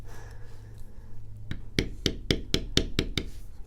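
A mallet strikes a Barry King number 2 checkered bevel stamp on leather for a card wallet, about eight sharp, close knocks in a quickening rhythm after a quiet start, over a low steady hum.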